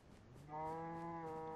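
A cow in a Minecraft-style video game gives one sustained moo, steady and clear after a quiet start, against faint background ambience.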